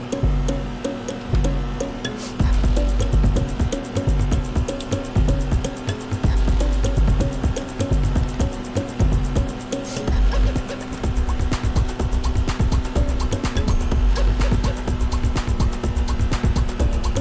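A Honda Civic EK9 driven in GTA V, its engine droning loudly and steadily with revving shifts and brief tire squeals throughout, a continuous near roar.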